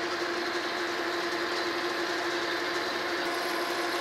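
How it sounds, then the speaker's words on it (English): Steady, continuous machine whine of a drill boring about 2 inches into metal stock on a lathe, a constant high-pitched grinding drone that holds level throughout. "we're gonna drill about 2 inches deep into this piece of stock"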